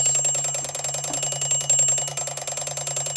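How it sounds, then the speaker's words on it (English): A Westclox Style 66 wind-up alarm clock rings with a rapid, continuous metallic bell clatter, loud and close, throughout the clip. "Oh, we've still got some power in that alarm spring."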